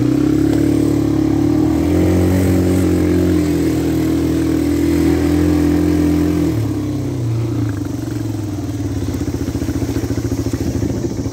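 An ATV four-wheeler engine running at a steady, loud drone while coasting downhill in near-neutral, its pitch easing lower about two-thirds of the way through as the revs die down.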